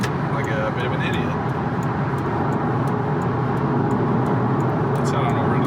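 Steady broadband road roar and engine drone from a MKIV Toyota Supra cruising on the highway, loud and continuous from start to finish, with no talking.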